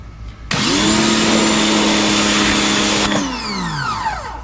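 AIVOLT electric pressure washer blasting dirty brick: a loud, steady motor whine and hissing spray switch on after half a second, hold for about two and a half seconds, then wind down with falling pitch.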